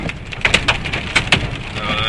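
Hail batters surfaces in a sharp, uneven clatter with distinct loud impacts during a possible tornado storm in northeast Kansas, heard close and dense over a steady roar.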